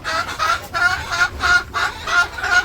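Village farm chickens cluck close by in a steady run of repeated bursts, with no talk over them.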